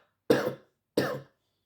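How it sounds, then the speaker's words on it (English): Two separate coughs from a patient during a cranial nerve examination, close and clear, with a short pause between them in otherwise silent surroundings. "by asking the patient to cough"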